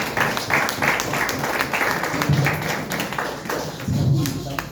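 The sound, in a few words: applause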